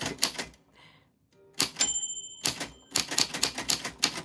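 A typewriter clatters in quick bursts of key strikes, with a bright bell ding ringing out mid-stream as an alert, close and crisp, pausing briefly before the typing resumes; no speech.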